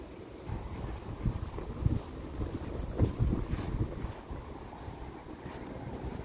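Wind gusts steadily at an outdoor rose garden in late June, roaring against the microphone as a continuous broadband rush with low rumbling surges and no speech.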